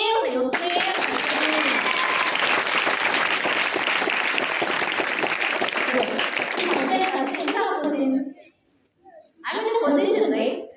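Students at a motivational session break into loud, sustained applause that fills about eight seconds before cutting off, after which a voice starts speaking.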